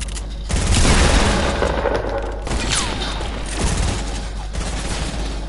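Sustained gunfire shooting down enemy bases in a building video game, dense rapid bursts with booms and thuds running throughout, loud and close.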